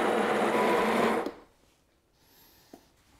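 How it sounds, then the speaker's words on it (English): The built-in grinder of a Sage Barista Express espresso machine grinds coffee beans in a loud, steady whirring burst just over a second long. It stops abruptly and is followed by a quiet pause and a small click. "Just activate the grinder."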